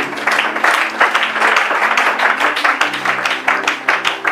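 A church congregation gathered for Bible teaching bursts into loud, dense applause, many hands clapping together in a steady, close roar that carries on for several seconds.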